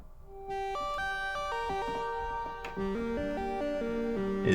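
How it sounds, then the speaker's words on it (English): Synth line from a Novation Summit and modular rig in an MPC One jam, run through Lexicon MX300 reverb: a stepping melodic line of sustained harmonic-rich notes with a spacious reverb tail, steady and fairly loud, no talking. "what you're hearing right now is verb from the Lexicon MX300"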